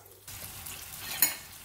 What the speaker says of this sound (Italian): Giriamo, le dobbiamo solo far rosolare le triglie.